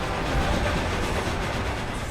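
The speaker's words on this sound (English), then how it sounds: "new to this year's game is a train race" A train rumbles along the tracks in the Forza Horizon 2 video game during a train race, a steady loud rolling roar with faint clickety-clack that runs the whole time.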